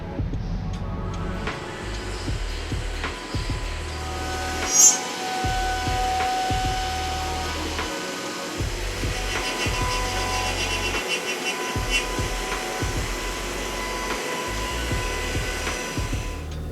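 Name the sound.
robot CNC milling aluminum combination square bodies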